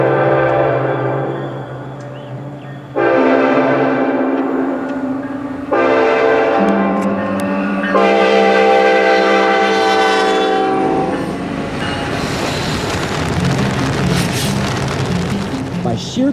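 Norfolk Southern freight train 27A with SD70ACE 1000 leading, sounding its horn loudly in long and short blasts as it approaches, then rumbling and clattering past up close.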